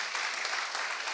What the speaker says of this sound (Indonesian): Berikan tepuk tangan dulu yuk.